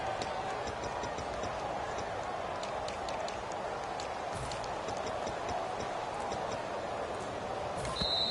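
The play clock in a PS4 football video game ticks steadily and faintly beneath a constant wash of stadium crowd noise.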